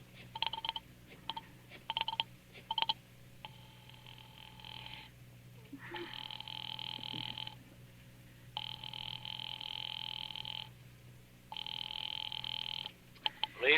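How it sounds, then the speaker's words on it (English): An old-style telephone ring from a 1943 radio drama repeats in long bursts with pauses between them, preceded by a few short clicks and tones, heard faintly over a low hum. "Ringing the police department."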